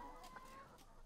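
Chickens in a poultry coop on a farm, giving a few faint, short clucks in quick succession over a quiet background.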